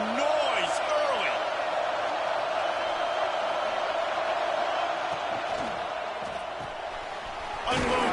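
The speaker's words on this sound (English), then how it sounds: "This crowd bringing the energy and noise early" Stadium crowd at a college football game, a steady broad roar sustained throughout with scattered shouts and whoops rising above it, swelling louder near the end.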